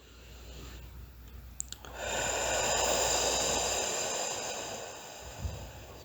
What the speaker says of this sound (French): tu n'es pas obligé de faire des respirations aussi grandes et aussi bruyantes